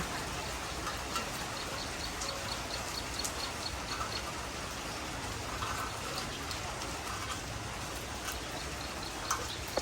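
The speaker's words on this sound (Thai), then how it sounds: "ฝนกำลัง ชะลอลงนะคะ" Steady rain falling outside a house, a dense, even hiss with scattered drips and patters. It keeps a constant moderate level throughout, with no audible slowing and no voices.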